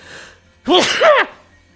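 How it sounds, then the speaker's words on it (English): A single sharp, close human sneeze bursts out in two quick voiced parts after a brief inhale, alone against a quiet room. "I'm gonna sneeze."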